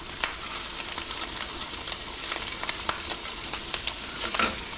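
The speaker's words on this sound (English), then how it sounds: "anytime you're trying to break up sausage or ground meat in a saucepan like this" Sausage sizzles and crackles in a saucepan while a utensil breaks it up, a close, steady frying hiss dotted with small pops and scraping stirs, with no voices.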